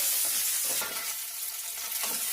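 Chopped onions sautéing in hot oil in a pan, a dense continuous sizzle with brief stirring scrapes, close and steady throughout.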